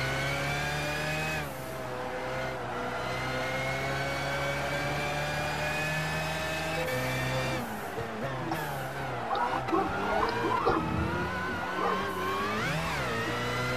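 A BMW V12 LMR '99 race car engine in Gran Turismo 5 holds a steady high drone, drops away briefly, then revs and climbs again with rising, wavering pitch as it accelerates. There is no talk over it.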